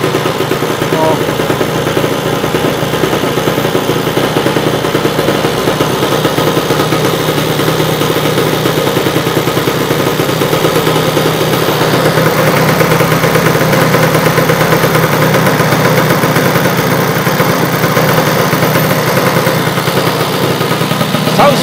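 A Lambretta scooter engine idling steadily close by, a continuous loud buzzing putter that stays even throughout, with some voices talking over it.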